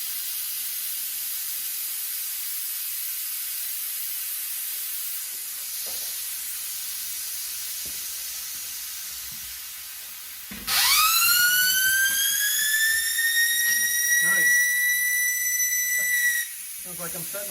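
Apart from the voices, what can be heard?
air hissing out of a truck tire valve with core removed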